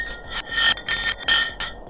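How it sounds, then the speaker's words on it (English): A block of ice dropped down a deep borehole in Antarctic ice makes a rhythmic series of about five bright, ringing, chirping pulses in quick succession, each a short metallic burst. "they decided to drop some ice to the bottom of the hole to see what would happen next"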